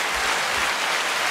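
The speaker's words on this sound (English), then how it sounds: "Round of applause for our sponsor, Kiara wine" A short burst of applause from a small group in a podcast studio, clapping for a wine sponsor, dense and even at close range with no voices over it.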